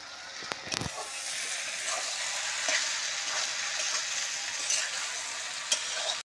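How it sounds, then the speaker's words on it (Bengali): Potatoes and prawns sizzling and frying in a pan with chickpeas, a steady loud hiss running throughout, with a few scraping stirs near the start. "এবার আলু চিংড়ি মাছগুলো দিয়ে আরেকটু কষবো, কষে সামান্য জল দেবো"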